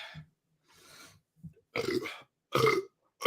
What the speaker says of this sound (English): You guys wanted the burps.